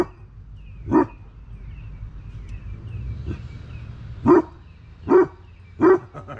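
A dog barks nearby, four or five loud single woofs spaced a second or more apart, with quiet room sound between them.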